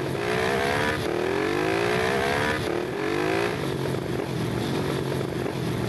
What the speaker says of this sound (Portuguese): tem que acelerar essa Transalp aqui